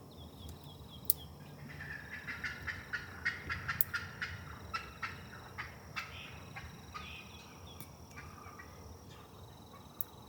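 Repeated wild turkey hen calls, a run of short yelping notes in the middle of the clip, heard outdoors in Florida at moderate distance with birds and insects in the background.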